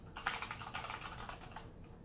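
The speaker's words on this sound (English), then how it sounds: "The keyboard works." Rapid keystrokes on a keyboard hooked up to a Huawei Mate 10 phone running its desktop mode, a quick, even patter of soft clicks close by, with no speech.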